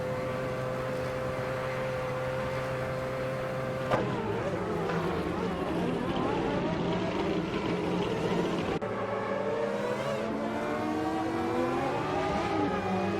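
AI-driven race cars lap a track in a Group C racing video game, one of them a Mercedes-Benz, their engines a continuous, loud whine of shifting revs that rise and fall as the cars accelerate and jostle for position.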